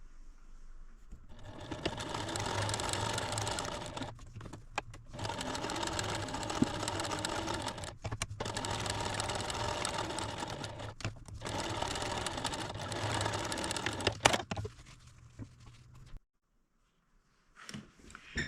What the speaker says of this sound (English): take it over to the machine and sew all the way around